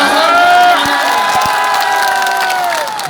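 A mushaira poetry-recital crowd cheers and whoops loudly, sustained shouting voices with rising and falling pitch filling the space, a few sharp claps breaking through as the roar gradually eases.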